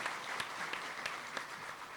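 An audience at a prison gathering in Madiun applauds in a soft, continuous wash of clapping, with scattered louder claps and no talk.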